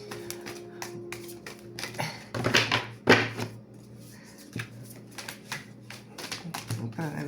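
Large, oversized tarot cards being shuffled, a series of papery riffling bursts and soft taps that come and go close by, with a voice speaking at intervals over them.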